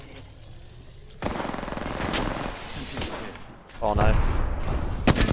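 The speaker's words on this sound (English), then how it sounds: "Getting shot at." Gunfire in the Apex Legends battle royale game, bursts of rapid shots and impacts erupting loudly after a quiet start, with sharp cracks near the end, while a player speaks briefly.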